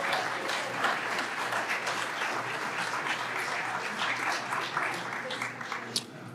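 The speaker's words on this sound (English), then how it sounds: "Can I have a nice round of applause for our captains?" Audience applause for team captains at a high school senior and captain athletic award night, a steady, even clapping from a sizable crowd that holds for the whole stretch at moderate distance.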